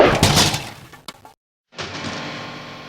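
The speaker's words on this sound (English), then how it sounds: "I tossed it into a closet and slammed the door shut." A closet door slammed shut during a frantic escape from a werewolf: a noisy, crashing scuffle ends in one sharp, close slam, then a brief silence before music swells.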